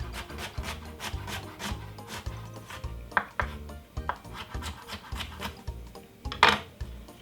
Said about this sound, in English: I have some white onion, just a piece of a white onion, which I'm gonna simple cut it up very finely